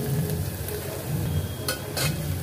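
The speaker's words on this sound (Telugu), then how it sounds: "ఇక ఆనియన్స్ అయితే వేగుతున్నాయి" Onions frying in a pan for a Sunday mutton curry, a steady low sizzle with a few brief scraping or stirring sounds near the end, heard alone without talk.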